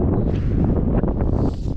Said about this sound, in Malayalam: നല്ല കാറ്റാണെന്ന് വെച്ചാൽ നല്ല കാറ്റ്